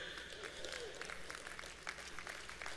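Indoor audience at a live speaking event clapping together, a dense, steady patter of many hands sustained throughout, with some murmuring mixed in.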